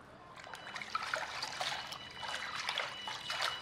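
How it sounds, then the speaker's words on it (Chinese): Water trickles and splashes steadily in a basin as cut fish pieces are rinsed clean, a soft continuous running-water sound with no talking. "将切好的鱼肉放入盆中，加入清水清洗干净"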